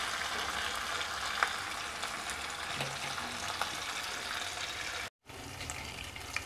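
Chicken pieces sizzle and crackle steadily in hot oil in a pan, a continuous close frying hiss with small pops, briefly cut off near the end before resuming.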